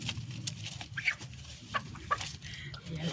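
A hen clucks in short bursts against faint outdoor background noise, with soft voices murmuring nearby.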